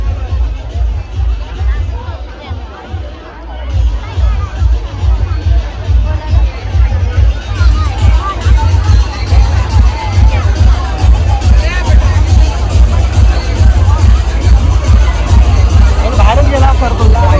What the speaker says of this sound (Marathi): किती गर्दी आहे तुम्ही पाहू शकता